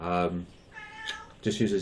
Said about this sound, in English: And that was my cat there,